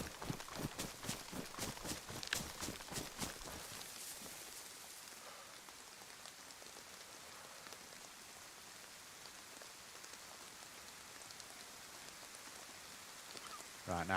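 Rain in the survival video game DayZ, a steady patter of drops on surfaces with some sharp close drips early on, continuous and fairly faint, no voices.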